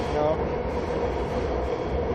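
Metro train at a station in Wuhan, a loud continuous rumble of a train running, with steady low mechanical roar and no clear voices.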